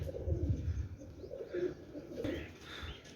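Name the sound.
Black Teddy pigeons cooing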